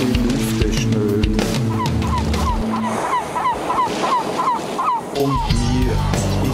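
Seagulls calling at an Italian beach, a run of short repeated cries in a steady rhythm layered over sustained sung or instrumental music, fairly loud and mid-distance.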